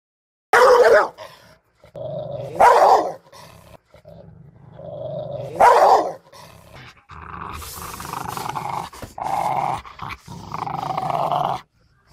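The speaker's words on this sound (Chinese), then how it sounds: "我们来看看真正的凶狠的狗叫声是什么样的" A fierce dog gives a few sharp loud barks early on, then rolls into long sustained growls and snarls, close and alone without talk.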